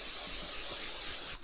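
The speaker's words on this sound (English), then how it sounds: "spray your baking dish." Cooking spray hisses from a can onto a 9x13 baking dish in one steady, close burst lasting over a second before cutting off sharply.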